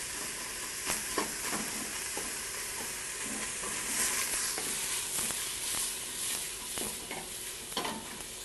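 Vegetables sautéing with a Southwest ancho-chipotle base with lime and cilantro, a soft continuous sizzle broken by occasional stirring scrapes and clinks of a utensil in the pan, close and fairly quiet with no talk.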